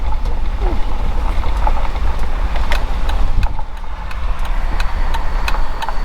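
A 2013 Jeep Wrangler JK with a newly installed Metal Cloak lift kit cruises along the road, its engine and tire roar forming a loud, steady rumble heavily buffeted by wind noise throughout.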